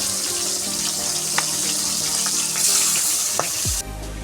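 Tilapia fish fry in hot oil in a pan, giving a steady, hissing sizzle close by with a few faint pops, before the sound cuts off abruptly near the end.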